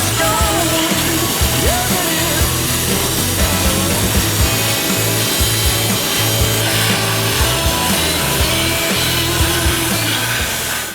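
A two-speed drill grinds steadily into stainless steel while wiring a boat from bridge to engine bay, giving a continuous, loud, rasping cut with uneven low-end chatter and no break across the whole stretch.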